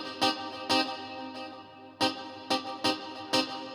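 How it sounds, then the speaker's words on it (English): Short punchy guitar stabs land on the upbeats of a bouncy 2000s-style produced beat, sharp accented hits recurring in an uneven rhythm over a sustained backing, with no talking. "Instead of having the bass notes on the downbeat, now it's just those kind of stabs on the upbeat."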